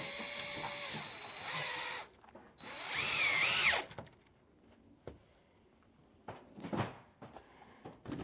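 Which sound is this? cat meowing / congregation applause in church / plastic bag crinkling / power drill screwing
power drill screwing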